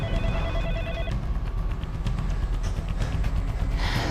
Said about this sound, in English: the telephone's ringing.